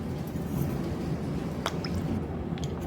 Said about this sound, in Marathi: पास्ता भिजेल एवढा पाणी टाकायचं आपल्याला त्याच्या थोडं वरती